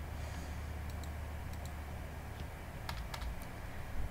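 PHP code being typed on a computer keyboard, a run of soft irregular key clicks over a steady low background hum, with no talking.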